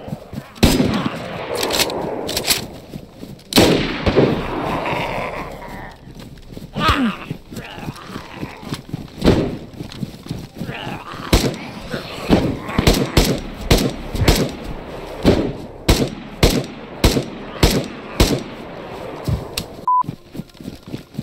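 Winchester rifle shots in DayZ, many sharp, loud reports spread unevenly across the clip, some single and some in quick clusters, over a quieter background of game ambience.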